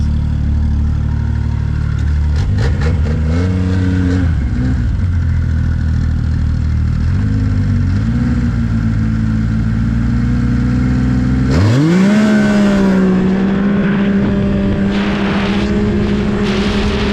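Arctic Cat ZR 7000 and Pantera four-stroke snowmobiles race on a short track, a loud sustained engine drone shifting pitch, then a sharp rising rev near the end as one machine pulls hard on the top end.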